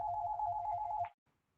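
Telephone ringtone heard while a call goes out, a steady pulsing electronic ring, fairly faint, that stops abruptly after about a second, followed by near silence.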